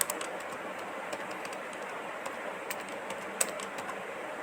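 Fingers type HTML on a computer keyboard in Notepad, a quiet, close run of light, uneven key clicks with an occasional sharper tap and no voices.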